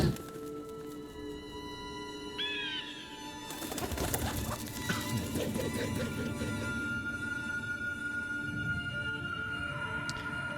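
A pigeon-like bird coos in a Ninjago animated episode, a short soft call over a busy soundtrack of music and effects that swells into a loud, dense wash partway through.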